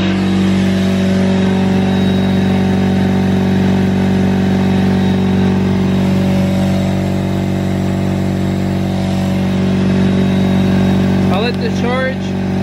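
A Harbor Freight McGraw air compressor runs and charges after its hose fitting was fixed, giving a loud, steady, close motor drone throughout. A voice briefly speaks near the end.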